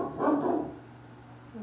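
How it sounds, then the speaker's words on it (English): A dog gives a single short bark that trails off into quiet room noise, with a faint higher yelp near the end. "Let me see what he's barking at time."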